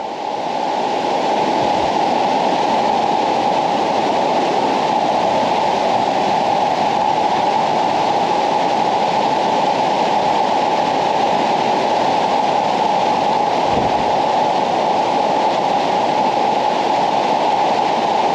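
Steady, loud rush of a flowing creek or river on a back-roads trip through Pennsylvania and New York, an unbroken wash of water noise close by with no voices.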